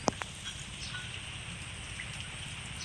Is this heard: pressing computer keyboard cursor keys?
no